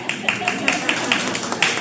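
Small audience clapping at a presentation of necklaces, a quick run of close, sharp claps at a steady rhythm from a few people.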